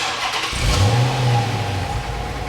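A 2009 Dodge Challenger SRT8 with a 6.1 liter Hemi V8 starts by remote, a sharp crank catching into a loud rising rev, then settling into a deep, rumbling idle nearby.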